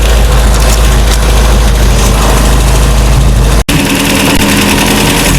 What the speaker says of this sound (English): If I slowly accelerate though, it still gets plenty of fuel.